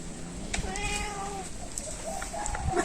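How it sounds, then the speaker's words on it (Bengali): Several cats meow repeatedly, overlapping high wavering cries, fairly close, with faint background noise and a few clinks. "কত বিড়াল আইছে"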